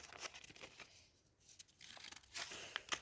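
Packaging being torn and crinkled open in short, close bursts, with a quieter pause in the middle before more ripping and rustling.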